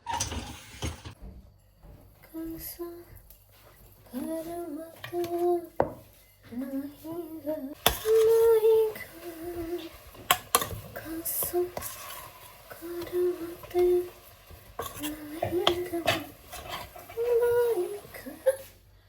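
Hot dishes clink and clatter sporadically as they are unloaded from a dishwasher, with someone talking throughout and short pauses between the knocks.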